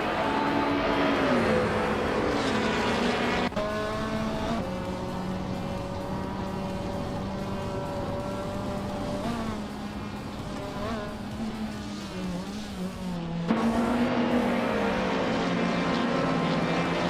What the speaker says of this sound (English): Amin-san is driving a Suzuki Swift from 2014